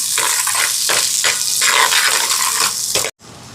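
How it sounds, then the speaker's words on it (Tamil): Green chillies, garlic and shallots sauté in a hot pan with a loud, steady sizzle that crackles on and off, ending in a sudden brief cutoff. "உள்ளி, சின்ன வெங்காயம். இப்போ இதெல்லாம் நல்லா வதங்கட்டும்."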